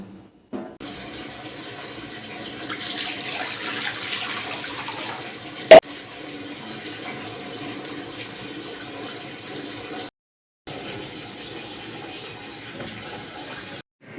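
Water steadily draining and trickling from soaked, chopped taro leaves in a home kitchen, a continuous close running-water sound with one sharp knock midway and a brief break near the end.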